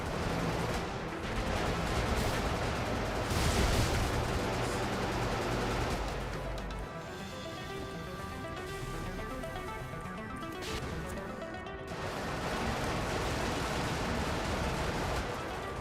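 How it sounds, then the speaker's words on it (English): Gun rammer weapon firing in the video game Brigador, a sustained roar of heavy blasts and crashing impacts that dips slightly midway before swelling again, loud and continuous without talk. "Solving our problems with the gun rammer."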